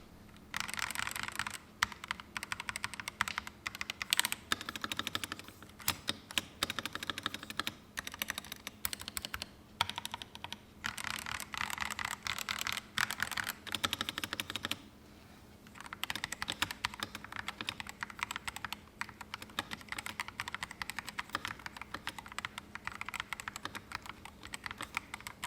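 Rapid typing on a stock mechanical keyboard with a large knob, dense clacky keystrokes close up and continuous, with a brief pause midway and no talk.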